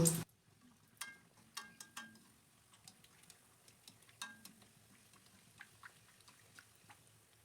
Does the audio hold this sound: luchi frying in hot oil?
yes